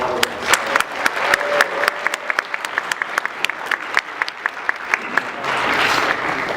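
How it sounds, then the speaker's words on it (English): Convention crowd applauding during the opening ceremony of an anime convention in Las Vegas, a sustained wash of clapping with sharp individual claps popping out, swelling again toward the end. "let's give him a round of applause, and Mike as well"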